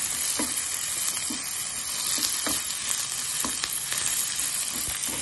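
A steady, hissing sizzle of tamarind frying in a hot pan, with soft stirring taps now and then.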